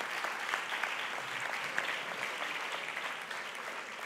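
Audience applause at a talent awards ceremony in Figueres, even continuous clapping from a crowd at moderate volume, with no talking.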